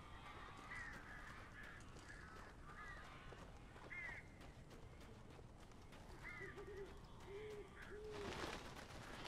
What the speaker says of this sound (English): These birds are weird.